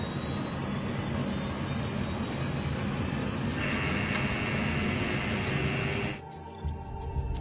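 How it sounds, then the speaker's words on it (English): A Sukhoi Superjet 100 jet airliner climbing away from a runway near Jakarta, a steady loud roar of jet engines with a rising whine, which cuts off abruptly near the end. "I simply set out towards the runway to shoot video of the Superjet 100 ascending into the skies."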